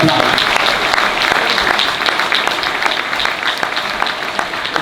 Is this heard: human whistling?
no